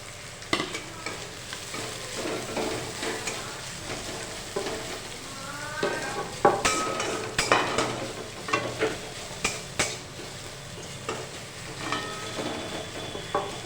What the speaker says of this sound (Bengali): এবার পেঁয়াজটা আমরা হালকা করে ভেজে নেব।